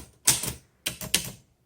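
A 1939 Underwood Universal manual typewriter strikes out a word with X keys, giving two clusters of sharp mechanical key clacks in a quiet room, the second group a quick triple strike.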